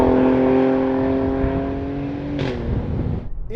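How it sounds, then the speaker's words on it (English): Alfa Romeo Stelvio Quadrifoglio performance SUV exhaust: a loud, close engine note holds steady and then drops away as the revs fall, heard alone without talk. "has one of the best noises of any performance car on sale today coming out the back of it"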